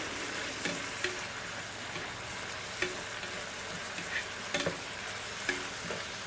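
Lime zest and juice being stirred through chicken in a pan, a steady soft scraping with a light sizzle and occasional sharper knocks of the utensil against the pan, no talking.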